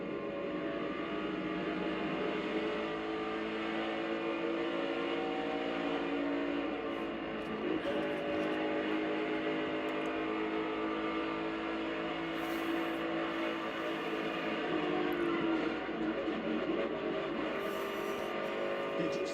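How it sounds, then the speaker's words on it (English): A NASCAR truck engine roars steadily at Darlington Raceway from inside the cab, a loud, sustained drone that rises and falls with throttle through the turns, with faint commentary underneath. "Let's get inside this truck and ride along and watch and listen"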